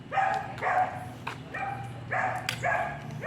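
A dog barks repeatedly nearby, about six sharp barks in an irregular rhythm over low background noise.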